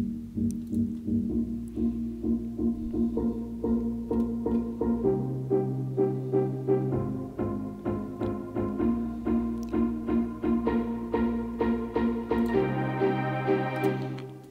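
Logic Pro X's own orchestral strings played through a sampler with reverb, a soft sustained chord progression of layered bowed notes shifting every couple of seconds, fairly quiet and steady with no talking.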